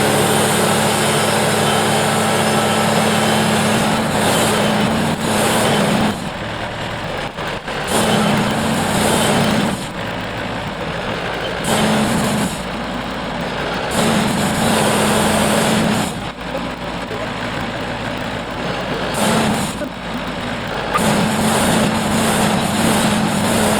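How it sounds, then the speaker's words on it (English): A Woodmizer LT70 sawmill runs loudly outdoors in the cold, its engine droning steadily while the pitch and load shift in repeated surges and dips as lumber is milled, with no talking. "It's running a Woodmizer LT70."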